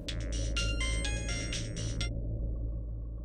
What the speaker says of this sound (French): téléphone sonne.